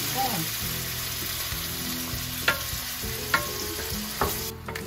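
Tomato and dried shrimp stir-fried in a hot wok, with a steady close sizzle and a few sharp spatula scrapes and clinks against the pan.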